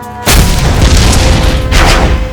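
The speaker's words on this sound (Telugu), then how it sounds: "ఆ బాంబ్ బ్లాస్టింగ్ గుర్తుండే ఉంటుంది" A bomb blast in a film erupts suddenly as a loud, sustained explosive roar that rumbles on for about two seconds with a second surge of debris noise near the end, no talking.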